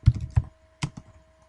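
Four or five sharp computer keystrokes come close and clear in quick irregular taps, two early, a pause, then two more, with a faint steady hum behind them.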